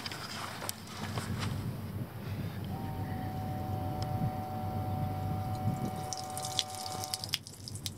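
Water runs from a small tap in a campervan, a thin steady trickle with light dripping, faint and close against a low background hum.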